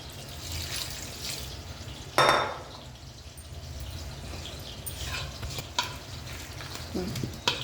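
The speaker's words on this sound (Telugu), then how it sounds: "ఇదిగో నిమ్మరసం వేసి కలిపేసాను." A spoon stirs lemon juice through a gooseberry (amla) avakaya pickle with spices and turmeric, giving soft wet squelching and scraping, with one louder clatter and scattered small knocks.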